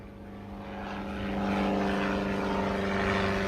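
A propeller airplane drones overhead, its steady engine hum with strong tonal bands swelling louder as it nears and then holding at a loud, sustained roar, with no talk over it.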